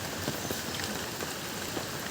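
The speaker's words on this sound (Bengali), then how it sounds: "প্রচুর বৃষ্টি, এত বৃষ্টিতে ফসল হয়?" Heavy rain pours down in a flooded rural village: a steady, dense hiss of falling water with scattered patters on surfaces, constant and enveloping, with no voices.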